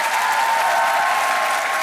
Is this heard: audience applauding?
yes